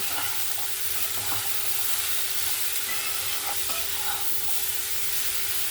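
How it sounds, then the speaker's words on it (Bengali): Malabar spinach seeds cooked with prawns, salt and chilli powder are stirred in a frying pan: a steady frying sizzle with scattered scraping and tapping strokes from the utensil. "আমি এখানে মশলার সঙ্গে ভালো করে মিক্স করে নিয়েছি"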